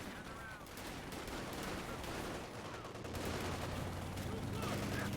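Rapid Sturmgewehr rifle fire in a World War II strategy video game, dense crackling bursts layered over a constant battle din with a low hum rising late, while a commentator talks throughout.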